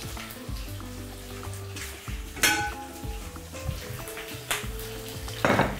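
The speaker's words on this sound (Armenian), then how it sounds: "թող միսը տապակվի" Pieces of beef tenderloin with garlic cloves frying in a pan for a sweet potato soup, giving a steady loud sizzle with occasional bursts of spatter and faint clinks of cookware.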